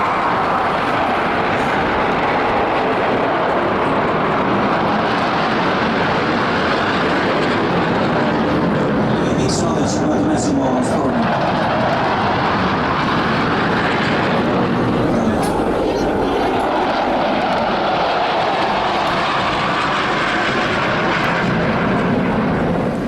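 A KC-767A tanker jet at an air show in Jesolo roars loudly and steadily throughout, a broad continuous engine rumble sweeping past at close range with no pause.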